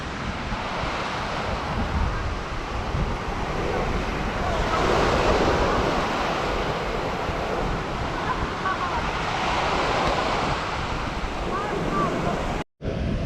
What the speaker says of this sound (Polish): Wiatr jest duży, ale ciepły.